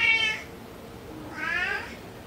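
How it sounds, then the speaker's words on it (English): A domestic cat meows twice indoors, a short high meow at the start and a second longer one about a second later, both fairly close and clear against quiet room noise. "That's my cat."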